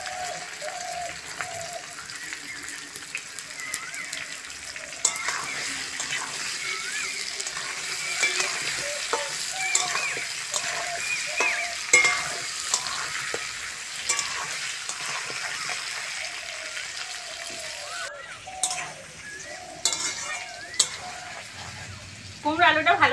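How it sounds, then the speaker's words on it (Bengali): Pumpkin and potato pieces with raw chickpeas frying in oil, a steady close sizzle throughout with occasional stirring scrapes, while someone talks over it in Bengali. "কুমড়ো আলুর সঙ্গে ভালো করে ভেজে নেব।"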